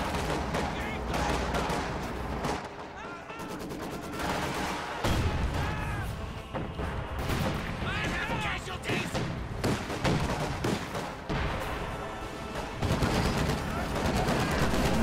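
Gunfire and artillery from a WWII strategy video game: repeated rifle and machine-gun bursts with heavy booming impacts, dense and continuous, under a commentator's running talk.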